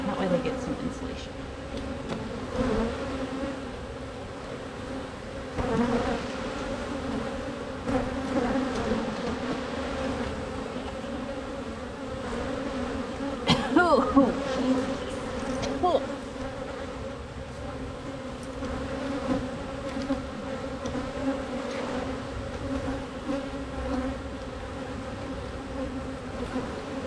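Honey bees hum steadily throughout a hive inspection, a sustained moderate drone with occasional nearer passes and faint talk underneath.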